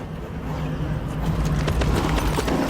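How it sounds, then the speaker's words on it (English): A horse in The Witcher 3 video game, its hooves clip-clopping in a steady rhythmic gait over a low rumbling background, with no clear neigh heard. "That horse is kind of scary as well"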